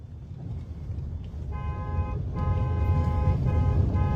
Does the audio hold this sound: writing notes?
no